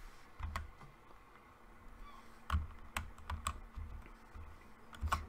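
Computer keyboard keys tapped while playing a video game, a quiet, irregular series of clicks with scattered sharper presses, heard close against a faint background.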